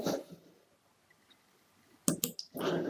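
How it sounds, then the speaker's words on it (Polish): A few sharp, quick computer mouse clicks close by, set apart from the quiet and followed by a burst of brief noise. "Klikam Preview."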